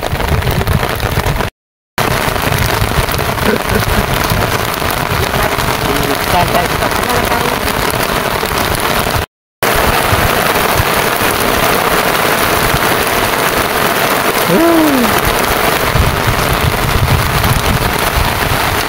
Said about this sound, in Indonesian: tuh hujan ini guys